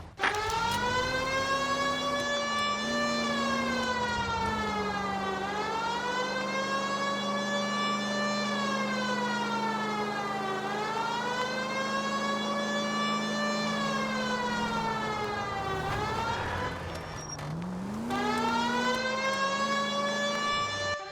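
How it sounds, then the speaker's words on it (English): A wailing police car siren in the L.A. Noire video game rises and falls continuously for about twenty seconds, loud and steady, briefly dipping before resuming its sweeping cycle, with no talk over it. "Oh, so pressing the left stick turns the siren off."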